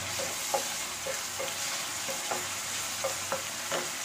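Chopped tomato sautés in oil with softened onions, a soft continuous sizzle under repeated light spatula scrapes and clinks about every half second.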